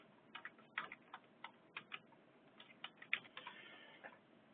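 Quiet, irregular clicks of keys being typed on a computer keyboard, a short burst of separate keystrokes with small pauses between them, close by and with no talking.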